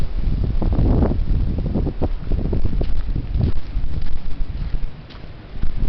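Heavy wind buffets the microphone in loud, gusting low roars that swell and ease unevenly, with rustling underneath.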